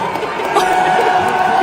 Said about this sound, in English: Jay Inslee was booed at the Apple Cup